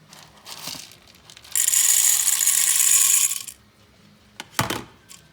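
A coffee grinder grinds beans coarsely for French press, a loud, harsh whirring burst of about two seconds preceded and followed by light clicks and knocks of the machine, close with no talking.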